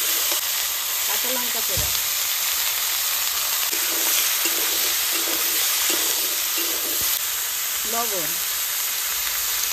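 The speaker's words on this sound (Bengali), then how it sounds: "এবার আলু আর পেঁপে একসঙ্গে ভেজে নেবো।" Potato and papaya frying together in oil in a pan, a loud continuous sizzle with stirring scrapes, while someone speaks briefly over it.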